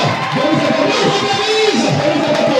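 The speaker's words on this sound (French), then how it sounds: "Acclamez le Seigneur Jésus-Christ" A church congregation cheering and acclaiming together, a dense, loud, continuous roar of many voices shouting and calling out without a break.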